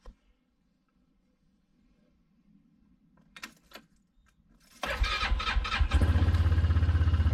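A Hisun Vecor 500 4x4 UTV cranks after a quiet stretch with faint clicks and rattles, then the engine catches with a loud, rough, pulsing mid-pitched idle that holds briefly toward the end.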